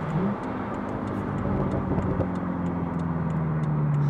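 BMW M6 with a roughly 560-horsepower engine accelerating on a 90 km/h road, engine note climbing steadily and loud up close with a rising harmonic whine over a dense rumble, no talk.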